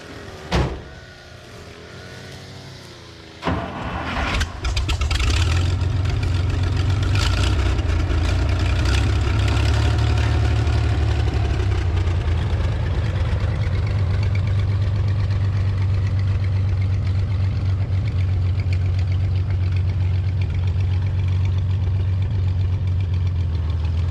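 A 1973 Chevrolet square body pickup's engine, freshly fitted with a new cam, settles into a loud, steady, deep idle with a lumpy rumble after a few short bursts and clunks at the start.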